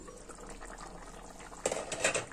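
Okra stew with meat simmers in a covered pot on the stove, a soft, steady bubbling that stays low and close, swelling slightly louder near the end.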